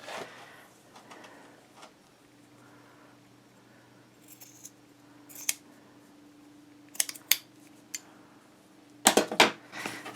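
Paper being trimmed for a Stamperia mini album: a few sharp, close snipping cuts come in scattered bursts, the last cluster loudest, over a quiet background hum.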